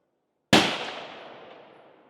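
A single sharp, loud P14 Enfield rifle shot fired with heavier bullets, standing alone and followed by a long fading outdoor echo.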